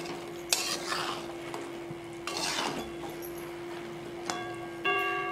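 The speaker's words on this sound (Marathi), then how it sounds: "आता यांना पाकात मिक्स करू." Chillies are stirred into sugar syrup in a pan over low heat, giving a soft bubbling hiss under repeated spoon scrapes and clinks against the metal, with a steady background hum.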